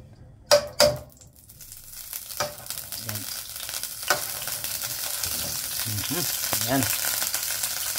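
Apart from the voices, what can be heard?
frying in olive oil and butter in a pan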